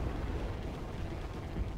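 A fiery blast in the stealth game Thief (2014), heard as a dense, sustained low rumble with crackling body that holds steady for nearly two seconds without any voices.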